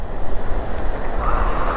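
Sea waves along the Batangas City coastline wash in a continuous rushing surf, mixed with wind buffeting the microphone, steady and fairly loud.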